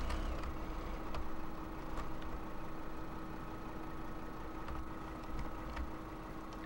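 A Kenworth truck engine in Farming Simulator 2013 runs as a steady low idling rumble with a constant mid-pitched drone, continuous and unchanging throughout, with no talking over it.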